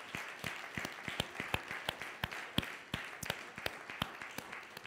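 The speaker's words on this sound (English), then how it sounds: "Go ahead and clap your hands." A church congregation claps in a steady rhythmic beat, with many sharp hand claps landing close together at a moderate level. A few faint voices sit underneath.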